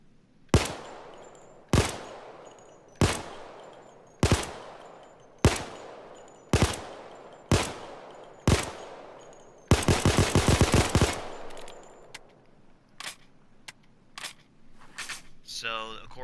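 Glock 17 pistol, the Chimano 88 in the video game Payday 2, fires eight sharp, loud single shots at an even pace, then a fast rattling burst, followed by fainter clicks and mechanical handling sounds.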